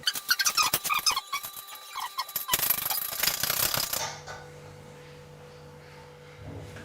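A nut and washers are tightened onto a toilet syphon bolt: a quick run of sharp metallic clicks and squeaks, then a louder rattling stretch before things fall to a low background hum.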